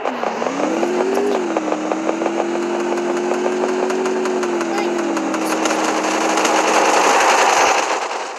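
A motorcycle engine in a video game revs up, then settles into a loud, steady, continuous drone that runs through the whole stretch with only slight shifts in pitch.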